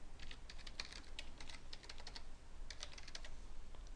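Fast, steady clicking of a computer keyboard as login credentials are typed in for a VMware ESX server console, continuous short keystrokes in bursts with brief pauses, close and fairly quiet, no talking.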